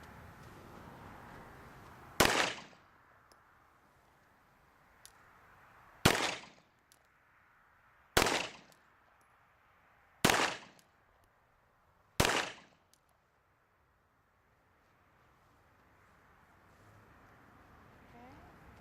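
Five sharp handgun shots fired one at a time during a Mono County CCW qualification on an outdoor range, spaced about two seconds apart, each a loud crack with a brief echo, with quiet talk beforehand.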